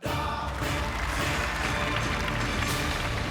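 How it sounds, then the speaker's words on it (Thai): A studio audience on a Thai television code-breaking game show breaks into loud, sustained applause, a thick wash of clapping that holds steady throughout. "ผมขอเสียงปรบมือให้กับคุณอ้ำครับ"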